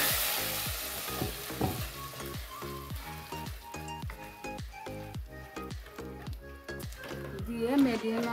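Potato and semolina batter frying in white oil, with a steady sizzle broken by repeated scraping stir strokes and soft wet squishes, close and fairly loud, while tonal background music runs underneath.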